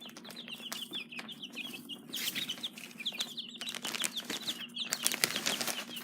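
Chicks in a cage give rapid, repeated high chirps with bursts of wing flapping and scuffling, close and moderately loud, with no talking.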